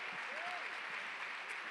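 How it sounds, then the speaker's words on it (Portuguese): Steady applause fills a church women's gathering, a dense wash of clapping from a large congregation with a voice briefly audible beneath it. "você pode aplaudir o Senhor pela vida da pastora Helena"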